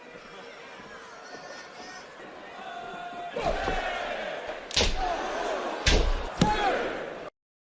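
A WWE SmackDown wrestler lands a big right hand in the ring at London's O2 Arena; sharp slams hit several times as an arena crowd roars and chatters steadily throughout.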